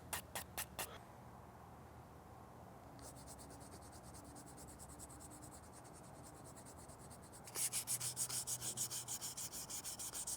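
Resin prop parts are sanded by hand in quick rhythmic rubbing strokes, a short burst at the start, then steady scratchy rasping with a faster, louder run near the end, close and faint.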